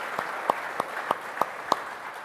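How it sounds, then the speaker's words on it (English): At a motorsport series event, sparse handclaps ring out for a tyre maker: about six separate claps, slow and evenly spaced, over a quiet room murmur. "you are allowed to give our friends at Michelin a little round of applause"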